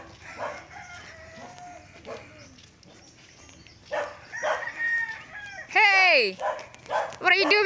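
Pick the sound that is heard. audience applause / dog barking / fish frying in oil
dog barking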